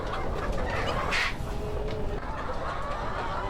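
Laying hens in a farm setting clucking softly amid a steady background hum, with one brief louder squawk near the start and a few scattered faint calls after.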